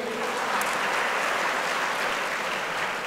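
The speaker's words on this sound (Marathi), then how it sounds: "जोरदार टाळ्या होत्या त्यांच्यासाठी" Dense, steady applause from a crowd fills the clip, loud and continuous with no pauses.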